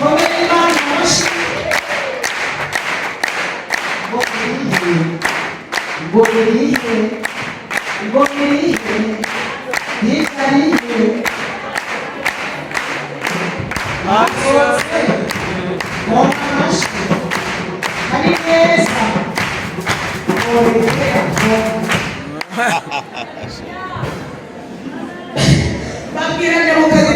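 A congregation at a church service claps in a steady, rhythmic beat for a long stretch, mixed with voices and singing, the clapping briefly thinning near the end before picking up again.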